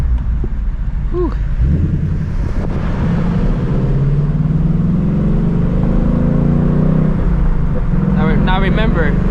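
A 2024 Mustang GT with a loud exhaust drives along, its deep engine note rising under acceleration over wind noise, with a person speaking over it.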